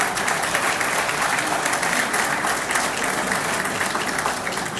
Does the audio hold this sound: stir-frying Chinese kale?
no